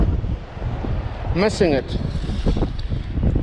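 Wind blowing across a beach during a metal-detecting hunt, a steady rushing buffet on the microphone throughout, with someone speaking briefly partway through.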